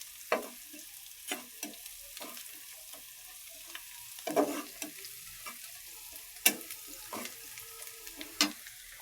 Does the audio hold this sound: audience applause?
no